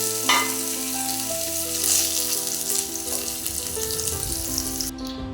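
Boiled potato and carrot chunks fry in hot oil in a wok, giving a steady, close sizzle with occasional stirring scrapes, heard over continuous melodic background music.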